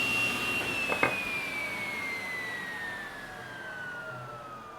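A table saw fitted with a 40-tooth alternate top bevel blade gives off a thin, fairly quiet whine that slides steadily downward in pitch as the blade winds down, with a brief knock early on and no voices.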